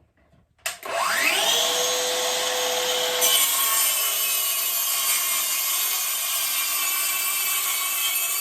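An electric saw spins up with a rising whine and cuts through an OSB board, a loud steady grinding rasp that carries on without pause.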